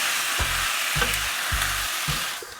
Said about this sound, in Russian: Ну и еще раз все перемешиваем.